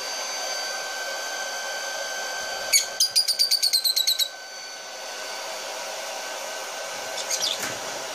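A steady hair dryer on its lowest setting whirs throughout as it dries green clay on a hen, with a quick burst of high chirps in the middle and another faint chirp near the end.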